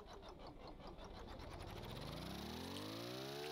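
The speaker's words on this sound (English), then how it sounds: "There we go, engine is now running, and propeller is spinning." A V8 engine built in the game Stormworks runs steadily and loudly, its buzzing drone rising smoothly in pitch as it revs up, with no talking over it.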